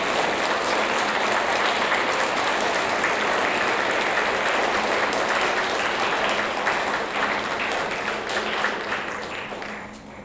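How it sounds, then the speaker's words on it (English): Audience applause at a 6th grade awards ceremony: dense, sustained clapping from a crowd that runs steadily for about ten seconds before tapering off slightly at the end, with no talk over it. "let's give a round of applause"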